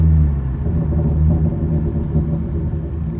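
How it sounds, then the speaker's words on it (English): A Hyundai Genesis Coupe's exhaust rumbles steadily while slowing down, a low continuous drone heard from inside, with faint irregular pops barely standing out. "Hear some of the pops there as I slow down."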